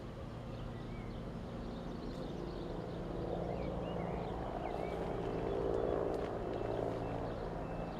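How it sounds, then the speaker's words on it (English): Steady low rotor-like drone of helicopters over a fire at a mill in Benidorm, distant and continuous, swelling slightly midway, with faint outdoor ambience and occasional chirps. "You can hear the helicopters."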